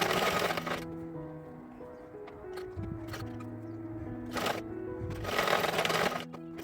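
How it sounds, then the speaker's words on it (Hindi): A domestic sewing machine stitches the side slits of a kurti made from a saree, a soft steady mechanical whirr running in short bursts with brief pauses, close by and moderately quiet, with no talking. "अभी हम इस कुर्ती का स्लाइड स्लिट्स स्टिच करेंगे।"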